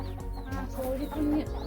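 Chickens clucking close by in a short run of quick, uneven clucks, with faint background noise.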